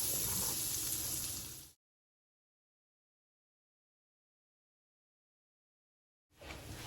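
Onions sizzle and fry in a skillet on medium-high heat, a steady bright hiss that cuts out into silence for several seconds before the frying noise returns.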